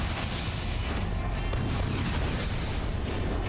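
Missiles launching in the mech combat game Armored Core 4, a dense roaring barrage of rumbling blasts and thumps held at steady loudness for a few seconds, without talk.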